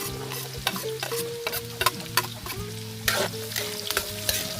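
Garlic, onion and chili sautéing in a pan, a busy close sizzle broken by repeated sharp clinks and scrapes of a spatula against the pan, no voices.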